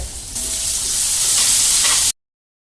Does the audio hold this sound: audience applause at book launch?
no